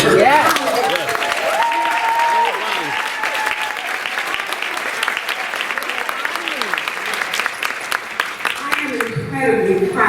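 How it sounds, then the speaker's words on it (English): An audience at a gala charity event applauds steadily for about ten seconds, dense clapping with some cheering, while someone speaks over it and the ovation tapers at the end. "So please join me in applauding Bonnie for her."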